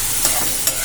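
A spatula scrapes and stirs duck egg curry in a pan, a close, loud bubbling sizzle with two quick scraping strokes in under a second.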